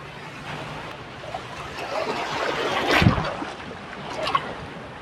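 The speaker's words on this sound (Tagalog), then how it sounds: "Laki ng alon, no?" Continuous rushing wash of big sea waves and wind around a moving boat near Calapan Port in the early morning, with a swelling surge of spray near the middle.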